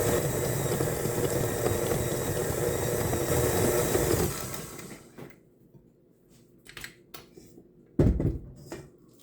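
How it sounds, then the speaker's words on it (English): Electric mixer beating butter until smooth for a brownie cake, a loud steady whir for about four seconds that then stops, followed by scattered clinks and knocks of bowl and utensils. "Beat butter until it's smooth."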